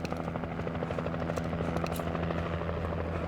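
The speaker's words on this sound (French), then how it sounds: "Hélicoptère!" Helicopter passing overhead with a steady, rhythmic rotor chop and engine drone, moderately distant and unbroken for the whole stretch, with no voices over it.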